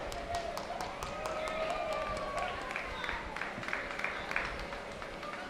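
Audience applause after a dance group's performance at the 75th CIF dance event: steady, moderately distant crowd clapping throughout, with a faint tonal hum and some background voices.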